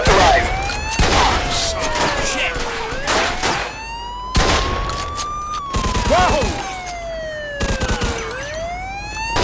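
Police automatic gunfire in Mafia 2, bursts of shots mixed with a wailing police siren that rises and falls throughout, loud and close.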